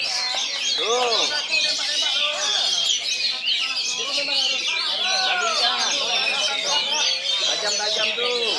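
Many oriental magpie-robins singing at a bird contest: dense, loud, overlapping whistles, trills and sweeping chirps run continuously and close by, with people talking faintly among them.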